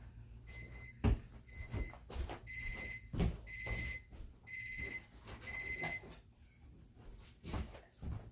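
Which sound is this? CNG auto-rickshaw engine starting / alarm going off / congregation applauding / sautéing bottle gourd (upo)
alarm going off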